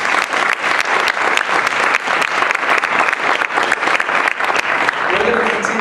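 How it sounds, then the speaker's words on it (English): A debate club audience gives a final dense round of applause for student respondents and debaters, steady clapping that tapers off near the end as a voice begins. "As well as a final applause for our student respondents and for our debaters."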